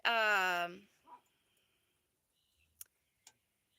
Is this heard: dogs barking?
yes